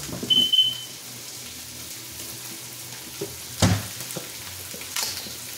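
Beef tripe and mixed vegetables sauté in a pan with a soft, steady sizzle, broken by a few sharp clanks and scrapes of stirring utensils against the pan.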